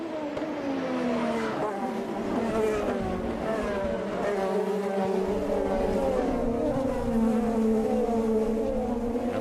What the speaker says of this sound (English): Just listen to them use the throttle here.